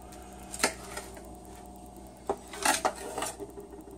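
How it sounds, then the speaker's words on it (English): A kitchen knife is sharpened on a steel before slicing grilled lamb, giving a few scattered metallic scrapes and clinks, clustered near the end, against quiet room ambience. "Need to sharpen my knife."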